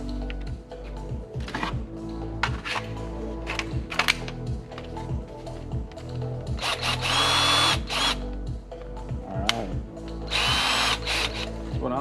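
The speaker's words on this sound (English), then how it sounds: "When you need a drill around the corner" A power drill fitted with a right-angle attachment, used while working on a Starlink Gen 3 DC-to-DC power converter setup, whirs in repeated short bursts that speed up and stop, with some louder, harsher stretches, close and loud.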